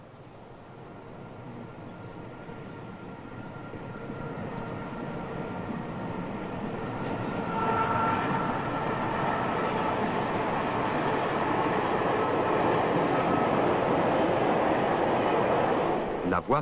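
A train on the Paris-Lyon railway line rumbles past beside an archaeological excavation site at Pincevent, a continuous broad roar that swells steadily and stays loud, with a voice talking over it.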